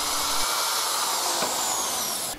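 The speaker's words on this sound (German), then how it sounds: "Dort, wo die Schrauben greifen sollen, also hier in der Giebelwand, wird mit dem kleineren Bohrer vorgebohrt." An electric drill bores a pilot hole into a wooden gable wall of a DIY birdhouse, a steady continuous high whine held close and loud throughout, with no talking.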